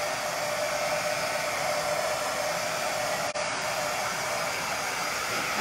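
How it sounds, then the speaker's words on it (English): A hair dryer runs close by with a steady, loud blowing roar that barely changes, apart from one tiny click partway through. "maybe it's because of my dryer"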